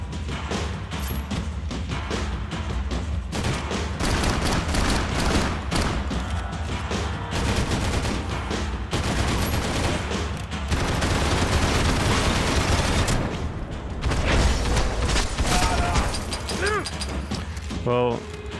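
Max Payne 3 gameplay with dense gunfire, heavy guns firing in rapid bursts and crashes over a constant game soundtrack, while a player talks throughout.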